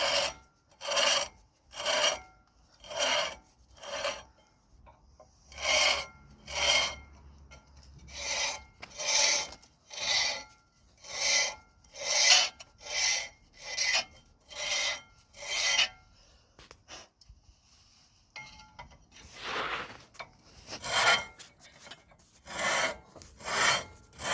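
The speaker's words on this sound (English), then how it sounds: "You can use wire brush on it. Just gonna clean the disc before I put the pads." Wire brush scrubbing a BMW 2 Series Gran Tourer rear brake disc, a loud rhythmic rasping of steady back-and-forth strokes in even bursts, briefly pausing before resuming.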